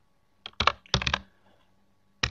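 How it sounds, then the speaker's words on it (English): Close computer keyboard typing of a web address comes in quick bursts of clicky keystrokes, with a short pause before a final flurry, with no talking. "You can do so by typing address in your web browser"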